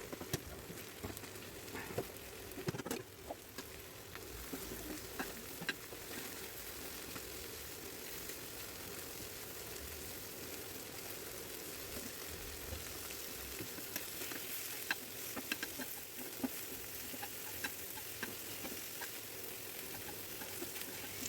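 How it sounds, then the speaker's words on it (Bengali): Besan-battered shrimp deep-frying in oil, a faint, continuous bubbling sizzle with light crackles throughout, no talk. "চিংড়িটাকে বেসনে চুবিয়ে ডুবো তেলে ভেজে নিলাম"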